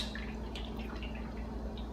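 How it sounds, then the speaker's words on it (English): Cooking oil pours steadily into a pan or pot in a kitchen, a continuous close trickling and dripping with no talk. "And I'm just going to pour oil like that"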